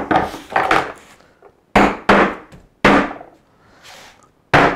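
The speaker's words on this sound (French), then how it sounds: "on les aide un peu avec un marteau" A hammer strikes tacks into the wooden frame of a painting canvas, giving sharp, close taps in an uneven rhythm with quiet gaps between them.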